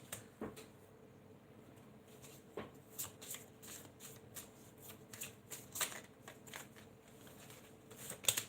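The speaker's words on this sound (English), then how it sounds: "I do like to shuffle on camera, so just bear with me" Tarot cards are shuffled close up, a soft papery riffling with irregular light snaps and flicks, steady and continuous with no talking.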